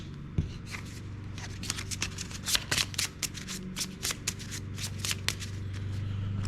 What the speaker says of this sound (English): We'll shuffle the medium deck real good.